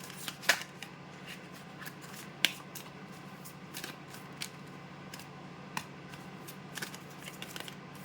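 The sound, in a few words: tarot cards being shuffled and drawn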